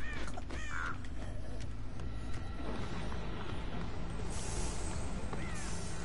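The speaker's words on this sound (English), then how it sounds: "But those crows are gonna drive me fucking nuts if she doesn't get back here." Crows cawing in the Dead by Daylight video game, repeated calls layered over a constant dense ambient rumble and game noise, with occasional brighter bursts.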